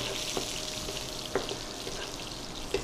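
Chopped garlic frying in a pan: a steady soft sizzle with occasional small pops and clicks, close and continuous with no talk.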